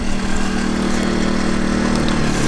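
A CAT INV2000 inverter generator runs with eco throttle engaged, giving a steady, loud engine drone with a constant low hum and no change in pace.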